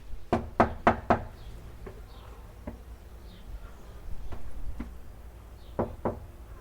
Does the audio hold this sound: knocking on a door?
yes